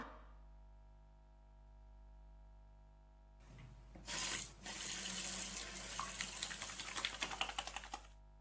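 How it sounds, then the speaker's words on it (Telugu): Water from a tap running as hands are washed, the flow starting abruptly after a quiet hum and continuing as a close, splashing gush with uneven spatters. "వెళ్ళి చేతులు కడుక్కొని రా"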